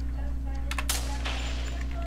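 A single gunshot cracks in Resident Evil 4, a short bright burst with a quick follow-up pop, over a steady low game hum and music drone.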